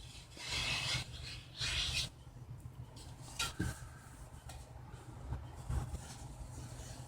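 Rasping strokes of sandpaper smoothing the edge of a balsa wood stabilizer piece, several long bursts in the first two seconds, then lighter scattered rubs and scrapes, close and alone with no talk.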